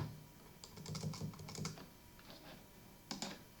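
Quiet clicking of keys on a computer keyboard, two short bursts of rapid typing separated by a pause, close and alone without speech.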